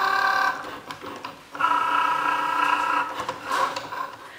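A Cricut Joy cutting machine buzzes and whirs as it cuts material, its motor tone starting, pausing and resuming in steady mechanical runs close by, with no talking.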